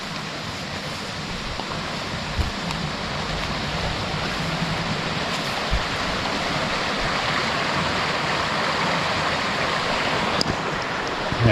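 Canyon Creek, a mountain stream on the White Mountain Apache Reservation in Arizona, rushes steadily below a waterfall, a dense, unbroken roar of flowing water heard up close.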